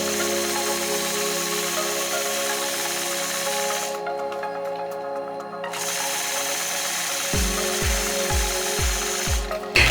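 Longarm quilting machine stitching along a machine quilting ruler, a steady, loud mechanical whir and hum with a brief change in tone midway and a few low thumps near the end.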